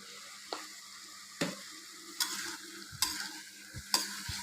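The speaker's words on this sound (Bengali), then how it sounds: "ডিমের মিশ্রণটা কায়টার সাথে আমি খুব ভালোভাবে মিশিয়ে দিচ্ছি" Beaten egg mixture is stirred into kayta frying in a pan, with a steady low sizzle under several sharp, irregular scraping clicks of the spoon against the pan.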